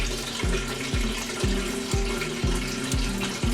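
Water pours steadily into a soy milk maker with a splashing, gurgling flow and a regular pulsing rhythm, close and moderately loud, with no voices.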